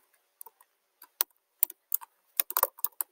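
Sporadic clicks and clacks of typing on a computer keyboard, a few isolated keystrokes building into a quicker burst near the end, close and fairly crisp with no talk.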